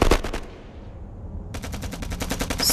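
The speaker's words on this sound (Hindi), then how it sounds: "100-200 मीटर के आसपास से फायरिंग हो रही है।" Automatic rifles fire in a war film about Indian Army soldiers at a bunker. Close, loud bursts break off for about a second, then a steady rapid volley resumes.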